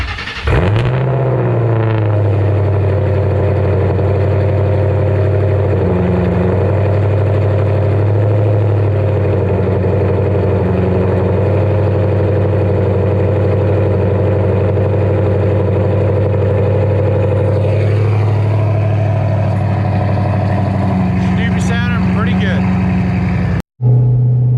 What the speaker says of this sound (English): Get you guys a cold start